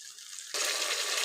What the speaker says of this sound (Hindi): इसको हल्का हल्का फ्राई कर लें।